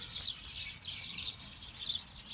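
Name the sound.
birds chirping in a park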